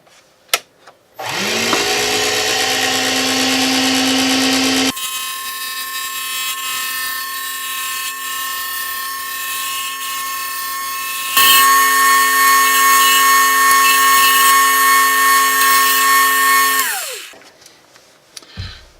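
A wood lathe spins a stylus pen blank while it is shaped, a steady loud motorized whine with strong tonal hum that shifts pitch partway through, then winds down at the end, with no talk.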